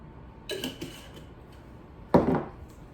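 Salad being tossed in a bowl after dressing is poured on, two bursts of clinking and scraping, one brief clatter followed by a louder, denser rustling toss, with no talking.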